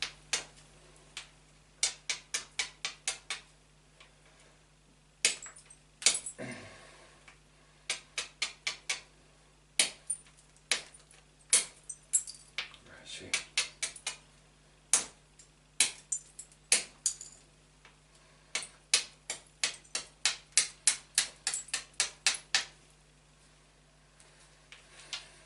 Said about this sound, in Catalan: ara el que faríem és revifar-la, fer que torni a tallar, fent retocs